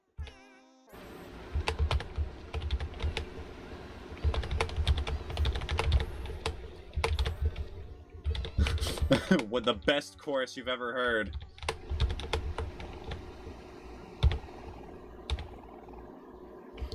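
Rapid typing on a computer keyboard during gameplay, dense clattering keystrokes running steadily throughout with a brief burst of game music partway, while a person speaks briefly over it.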